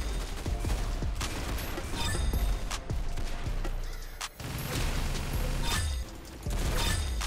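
Rapid gunshots and bursts of gunfire in the Roblox game Arsenal, loud and dense throughout with clattering impacts, brief dips between volleys, no talk.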